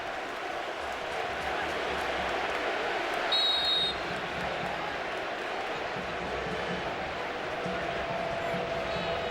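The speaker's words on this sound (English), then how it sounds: "But listen to the crowd right now." A large stadium crowd roars and murmurs continuously through a USA versus Germany soccer match, a steady distant wash with occasional whistles and swells.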